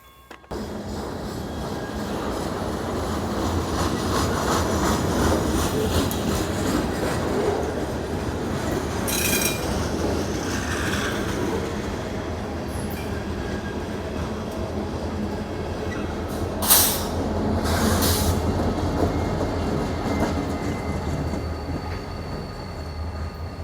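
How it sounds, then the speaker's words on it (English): A train rumbles past nearby in Florida, heard from a bicycle stopped near the tracks, with a continuous low roar, rhythmic wheel clatter and a couple of brief squeals, fairly loud throughout. "I hear a train a-comin'."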